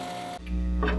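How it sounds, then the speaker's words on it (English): A saw cuts a board of wenge wood, making segmented disc wedges for a turned ring: a steady motor hum with the blade biting in partway through, a louder, denser whine building near the end, close and alone. "This first board I'm cutting is actually a piece of Wenge wood"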